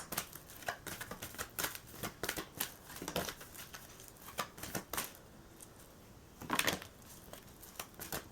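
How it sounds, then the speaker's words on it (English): Oracle cards are shuffled by hand at close range in a tarot reading setting, giving a series of crisp riffling and flicking bursts at an uneven rhythm, with a louder flurry near the end. "I'm going to pull an oracle card"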